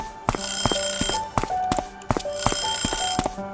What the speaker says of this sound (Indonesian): ada telepon ya.